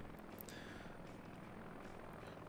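A helicopter in the video game Heliborne, a low steady rotor and engine drone, faint and continuous with no voices.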